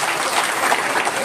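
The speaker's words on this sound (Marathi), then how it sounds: "एकाच वर्षाताईसाठी जोरदार टाळ्या वाजवा" Audience clapping for Varshatai at a tribal wild-vegetable and traditional food festival, a brief dense burst of many hands applauding together, steady and fairly loud.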